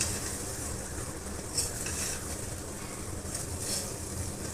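Potatoes go into a pan of soybean curry frying in oil, a steady close sizzle and crackle that holds level throughout, with faint stirring and utensil scrapes on top.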